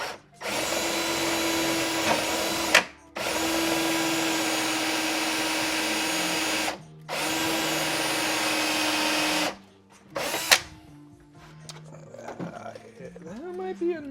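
A step bit drills out a pilot hole in a HasLab Proton Pack, with three long, loud, steady drill bursts split by short pauses. A voice speaks quietly near the end.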